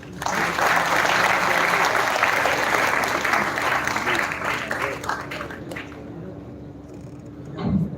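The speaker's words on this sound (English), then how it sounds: "Huge round of applause for the sir." Loud, sustained audience applause after a speech at a college tech festival event, dense clapping from a large crowd that gradually thins, with a faint hum underneath and a voice near the end.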